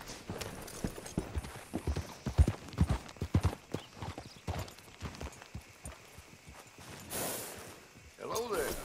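Horse hooves clip-clop on the ground in the Red Dead Redemption 2 video game as riders arrive to hitch up, a steady close trot slowing down, with voices talking over it and a snort near the end.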